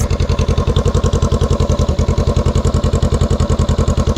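A Honda Rebel 500 fitted with a Radiant Cycle Shorty GP exhaust, baffle installed, idles loud and close, its exhaust pulsing in a steady, even, thumping rhythm throughout.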